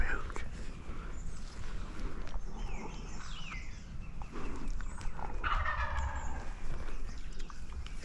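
A wild turkey gobbles outdoors during a spring hunt, a few rattling calls at moderate distance heard under quiet whispered talk and ambient woodland noise.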